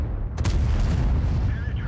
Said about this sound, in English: we're firing gold at the mouse